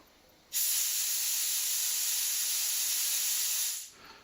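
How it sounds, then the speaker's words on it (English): Compressed air jets hard out of the breathe hole of a diving regulator while its reservoir is topped up through a quick fill hose, a loud, steady hiss that bursts on suddenly, holds for about three seconds, then tapers away. "the air is absolutely jetting out of the breathe hole"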